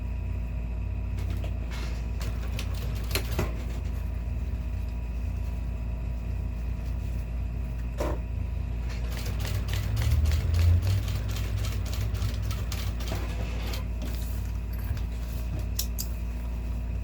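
A sewing machine stitches a manicure bag: a quiet, steady motor hum broken by irregular bursts of rapid mechanical clatter, with no voices.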